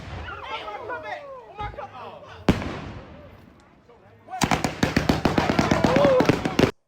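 Fourth of July fireworks crackle and pop at a house, first scattered distant bangs with faint chatter, then a sharp blast and a dense, rapid run of loud crackling bursts near the end.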